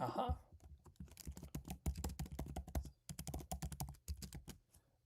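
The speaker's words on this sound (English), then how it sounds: "Once I finish typing, I will, of course, get back to the comments." Close, quick clicking and tapping of keys in bursts with short pauses, quiet and continuous, the patter broken up by brief gaps.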